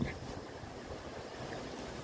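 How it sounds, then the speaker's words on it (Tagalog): Steady wind rushing and buffeting against the microphone on Lamma Island, Hong Kong, near a windmill, low and continuous, with no talking. "Ayan siya, mahangin. Ayan ang hangin."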